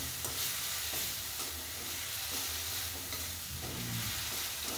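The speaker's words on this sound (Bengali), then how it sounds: "দেখুন মশলাটা কষানো হয়ে গেছে" Spice masala for a Bengali lentil kofta curry sizzles softly in oil as it is stirred, a steady close frying hiss with light scraping strokes and no voices.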